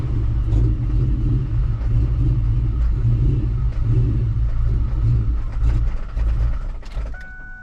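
A Whipple-supercharged 2024 Mustang GT V8 revs under throttle, a loud close low rumble that rises and holds, then eases off near the end as a faint electronic tone chimes.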